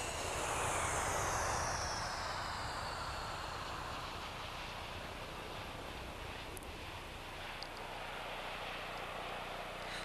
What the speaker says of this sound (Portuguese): Um novo dia, outro avião repleto de passageiros